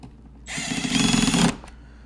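A power drill drives screws into a door in one loud, steady whirring burst of about a second, starting and stopping abruptly and then grinding briefly as the screw seats.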